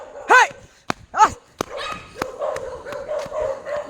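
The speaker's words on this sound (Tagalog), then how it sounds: "Pasok na dito yung mga aso na wala kaya." Dogs bark loudly and close by in a few sharp yips and barks, followed by quieter scattered barking and rustling.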